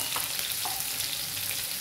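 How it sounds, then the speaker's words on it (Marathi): Garlic frying in hot oil for a tempering, a dense steady sizzle that stays close and even, with a couple of small crackles and no voices. "त्यानंतर आपल्याला या फोडणीमध्ये लसूण टाकून घ्यायचं आहे व छान अशी फोडणी द्यायची आहे"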